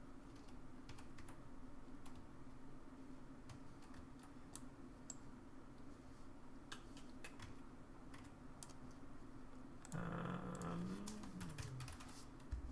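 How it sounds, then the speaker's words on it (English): Typing on a wired computer keyboard, a steady run of soft, close clicks under a constant low hum, with a brief louder burst of activity near the end. "there's a reason why I went to a wired keyboard"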